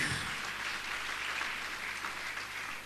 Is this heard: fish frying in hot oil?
no